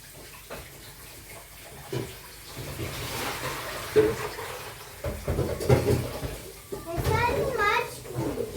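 Tap water runs steadily while coffee is being prepared, a continuous splashing wash beneath overlapping children's voices and adult talk.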